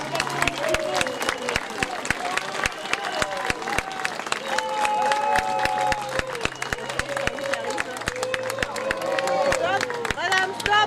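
An audience at a Chanaz podium ceremony claps and applauds loudly and steadily throughout, with scattered voices and crowd murmur mixed in as guests arrive on stage.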